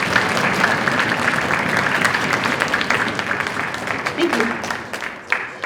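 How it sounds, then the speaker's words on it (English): Audience applause fills a school band and orchestra concert, a dense steady wash of clapping from a crowd in an auditorium, with a brief spoken thanks near the end. "Can we all give a round of applause to Mrs. Forrest?"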